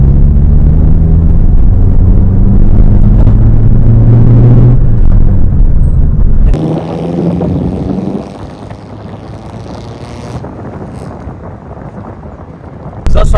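Engine of a modified Mitsubishi Lancer with a stage 2 tune, a loud steady low drone heard from inside the car, easing off partway to a quieter rumble with wind noise.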